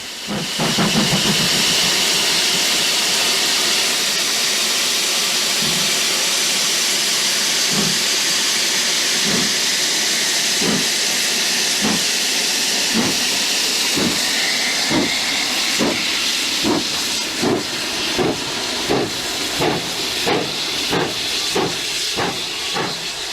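British steam locomotive Rood Ashton Hall, a Hall class engine, pouring out a loud, continuous hiss of steam, while regular exhaust chuffs emerge and quicken as it pulls away, close up, with no talking.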